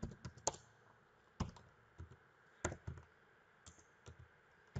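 Keystrokes tap on a computer keyboard in short, quiet clusters with brief pauses between words, close and clear against near silence.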